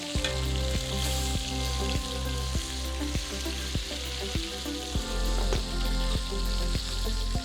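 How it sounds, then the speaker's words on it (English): Prime ribeye beef sears in a hot pan with a steady, close sizzle and crackle. A constant tonal hum and faint rhythmic ticks run underneath. "we are searing it nicely on all of the sides"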